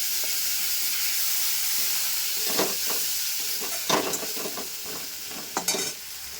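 Garam masala powder and spice paste fry in oil in a pan, a soft continuous sizzle under a steady background hiss, with intermittent scraping and stirring clinks toward the end.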